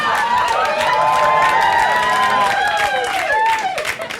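A stand-up comedy club audience erupts in clapping mixed with cheers, shouts and sharp whistles, loud and lively for several seconds before easing off.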